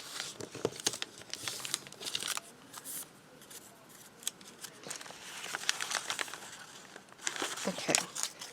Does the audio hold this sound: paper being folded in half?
yes